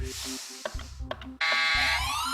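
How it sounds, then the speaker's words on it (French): Contestant buzzer on the French TV quiz show Questions pour un Champion, sounding as a loud, sustained electronic tone that cuts in abruptly about midway and holds steady to the end, following a few brief studio sounds. "Elisabeth voulait buzzer, attendez que le temps imparti à Hugo soit passé"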